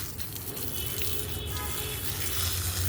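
Water pours steadily over rose plants in hot sun, a continuous close gush and splash with no breaks and no speech.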